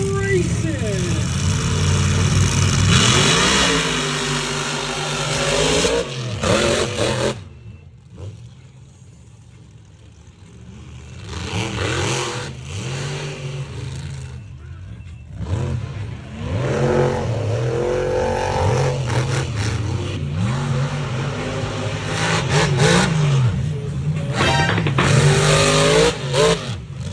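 Mega trucks race in a championship round, engines roaring and revving loudly almost throughout, with a brief dip before the motors surge again; voices can be heard in the mix.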